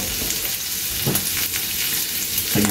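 Meat for caldereta sizzles and fries steadily in a hot pan, a dense crackling hiss with occasional louder spatters and stirring scrapes.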